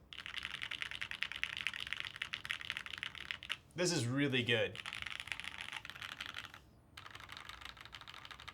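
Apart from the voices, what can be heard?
typing on FLX Virgo mechanical keyboard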